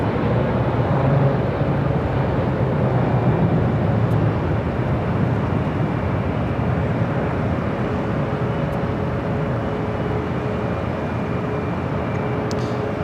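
A Southwest Airlines plane landing on runway 24 right at LAX, heard as a steady, loud broadband roar that holds throughout with no voices.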